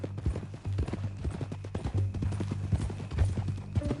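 Horse hooves clip-clopping in Red Dead Redemption 2, a steady close walking gait of distinct thuds over a low rumble, with no talk.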